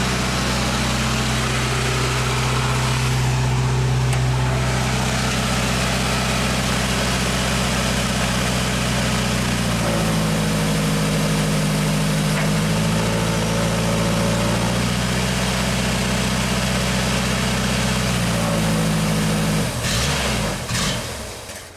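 Genie lift engine running on after an earlier stall, a steady close idle with a low hum, shifting in pitch midway, then dropping at the end.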